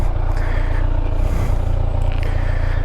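A 2018 Kawasaki Z1000SX motorcycle sets off, its engine a steady, loud close-up rumble that holds throughout with a light rise in revs, no speech over it.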